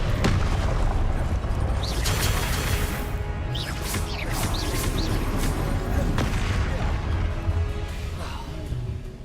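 Fire-blast spell explosions in the Hogwarts Legacy video game come as a dense, loud run of booms and crashes with sharp overlapping impacts over constant battle noise.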